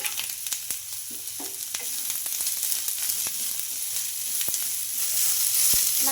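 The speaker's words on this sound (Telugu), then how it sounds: "లోపు ఈ ఆనియన్స్ అయితే ఎక్కువ మగ్గి అయితే అవసరం అయితే లేదండి కొంచెం కలర్ చేంజ్ అయ్యే వరకు ఫ్రై చేసుకుంటే చాలు" Onions fry in hot oil in a kadai, a steady bright sizzle running throughout with scattered clicks of stirring, close and fairly loud.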